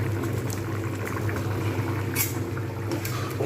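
Chana dal (split chickpeas) boiling in a pot for khichdi, a steady low bubbling and simmering with occasional small pops and splashes, continuous and close.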